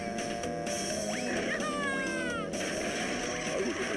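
A missile launches in the Crash Team Racing kart game, a burst of synthetic whooshing and rising whistle tones over steady game music and engine noise, with no clean separate blast.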